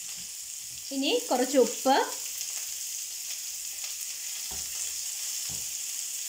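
Sliced onion, green chilli and curry leaves sautéing in a pan, a steady sizzle running throughout with a few spoon scrapes near the end; a voice speaks briefly in the middle.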